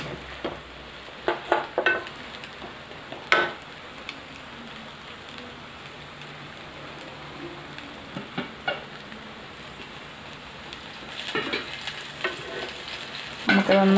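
A Lays potato chip omelette fries in a pan with a steady low sizzle, broken by a few sharper crackles and clatters of flipping as it cooks.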